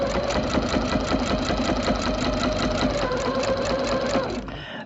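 A sewing machine stitches a small leaf in place for a scrap-fabric French rose quilt block, its steady rapid whir running loud and close for over four seconds before slowing to a stop.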